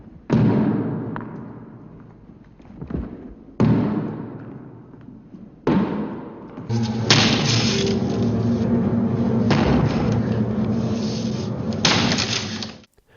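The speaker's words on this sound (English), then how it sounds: "compare it with the slamming thud as Jack chops through doors" In The Shining, an axe chops through a door, giving loud slamming thuds: three sharp impacts spaced a couple of seconds apart, then a longer sustained loud passage, each blow booming and close.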